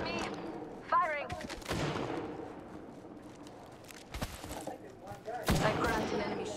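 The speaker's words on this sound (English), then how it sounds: "They're shooting at me." Gunfire in a ranked Apex Legends match: scattered shots and short bursts crack out at several points, some sharp and close, set over a busy game soundscape.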